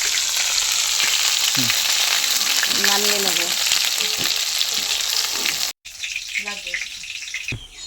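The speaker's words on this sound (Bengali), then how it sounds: "পটলগুলো ভাজা হয়ে গেছে এখন নামিয়ে" Oil sizzles steadily as pointed gourd fries in a pan, with a brief break in the sizzle and a few short spoken words over it.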